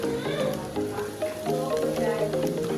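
Coarsely chopped onions sizzling in keema mince in a pan for samosa filling, a steady close frying crackle with scraping stir sounds.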